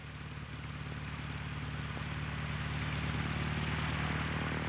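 Steady drone of a high-wing propeller aeroplane in flight, with a constant engine and propeller hum that holds even and loud throughout, no voices present.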